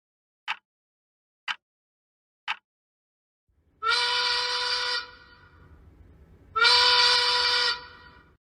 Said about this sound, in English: That is another noon whistle.